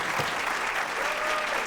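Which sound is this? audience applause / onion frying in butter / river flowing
audience applause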